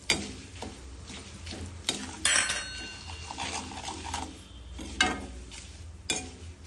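A spoon stirs spices and chili powder through murmura puffed rice in a large bowl, giving dry rustling scrapes with several sharp clinks against the bowl at irregular intervals. The sounds are close and fairly quiet, with no speech.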